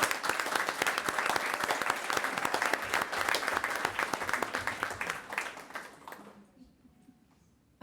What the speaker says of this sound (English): So please give all those nominees a round of applause.